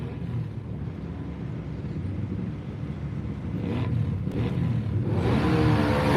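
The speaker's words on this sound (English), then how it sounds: "Jeff Stroud should be up next, making his way to the start line for run number 2 of the ATV Big Tire" A big-tire ATV engine idles and revs at a dirt drag start line, a steady low rumble building louder toward the end with a brief higher whir near the middle, heard over outdoor event ambience.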